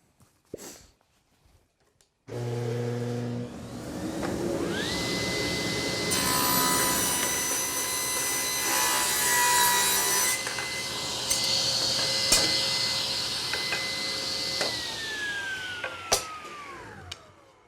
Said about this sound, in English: an easy, cheap, and most importantly safe way to cut a whole bunch of thin strips on your table saw